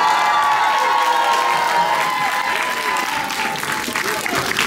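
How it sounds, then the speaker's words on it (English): Audience at a Kevin Hart movie premiere in Atlanta giving a standing round of applause, loud continuous clapping with cheers and whoops, a voice briefly heard over it, easing slightly toward the end. "Give me a nice stand-up round of applause for Mr. F. Gary Gray, y'all."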